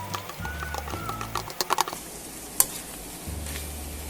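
Boiled meat pieces for dinuguan are stirred in a hot pan with ginger, a soft sizzle under scraping and clicking of a spatula, close and moderately quiet with a few sharp knocks.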